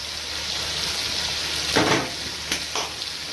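Vegetables with plenty of cumin, coriander, black pepper and salt sauté in a pot for lentil soup, a constant loud sizzle broken by a few scraping stirs near the end.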